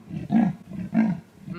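A human voice imitating a leopard's sawing roar: two deep, rasping, rhythmic grunts like a saw drawn through wood, close and fairly loud, with a short pause between them.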